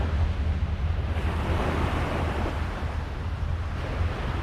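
Ocean waves wash continuously onto a beach, a broad, steady roar of surf with some wind rumble, moderately loud and unbroken, with no voices.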